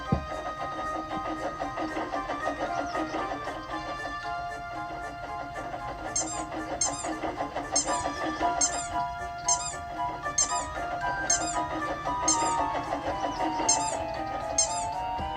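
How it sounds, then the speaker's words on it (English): A Bachmann model of Edward, the blue Thomas and Friends engine, squeaks as its wheels turn. A steady train of sharp, high squeaks repeats rhythmically over a running mechanical hum. "The squeak continued as Edward puffed along,"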